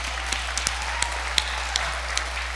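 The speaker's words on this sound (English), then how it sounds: "I think they deserve a round of applause." Sparse, scattered clapping from a small church congregation, a few distinct claps standing out over a steady background hum.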